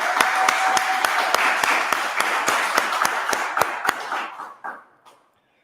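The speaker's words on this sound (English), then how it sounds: "a round of applause to the group of the founders members who showed up" A small group claps in a round of applause at a Founders Group event in El Salvador, crisp steady claps that slow and fade out after about four seconds.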